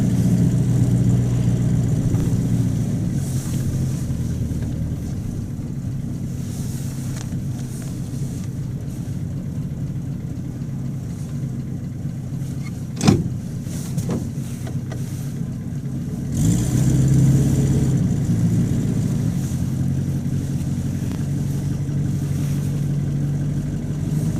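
A Buick Roadmaster's engine drones steadily as the car is driven, with a sharp thump partway through and a slight rise in engine note near the end; no voices.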